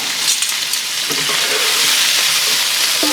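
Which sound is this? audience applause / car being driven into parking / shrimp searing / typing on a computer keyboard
shrimp searing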